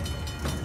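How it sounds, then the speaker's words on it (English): A train draws closer in the action game Uncharted: The Lost Legacy, a steady low rumble of rolling rail cars that stays loud and continuous across the short moment, with no talk over it. "The train's getting closer."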